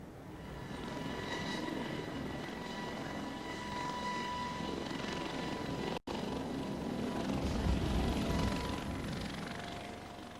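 Daily Express Helicopter Emergency Service air ambulance, a fully equipped emergency operating theatre, gives off a steady, droning rotor and engine roar at moderate distance, unbroken apart from one momentary cut.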